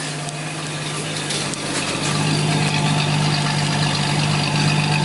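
A 1969 Ford Mustang with a stock engine idling, a steady, close, low rumbling drone that grows slightly louder partway through, with no talking.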